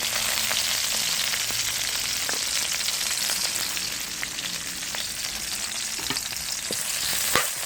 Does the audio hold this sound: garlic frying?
yes